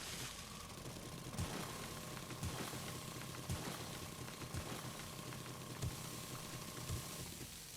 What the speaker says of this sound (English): Auger makes very short work of this